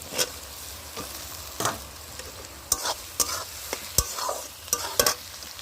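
Chicken kosha frying in a pan with tomato over a wood-fired clay stove, a low sizzle punctuated by sharp scraping and knocking of a spatula at irregular intervals, close by, no talk.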